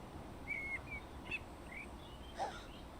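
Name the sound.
birds chirping in Train Sim World 2 video game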